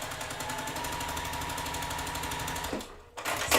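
A sewing machine stitching the corners of a quilt block runs at a fast, steady mechanical rhythm close by, then stops briefly and starts again near the end.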